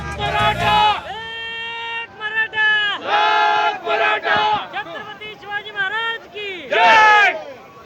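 A crowd of Maratha protesters cheers and shouts in a victory celebration, loud overlapping whoops and chanted cries rising and falling in bursts, close and energetic.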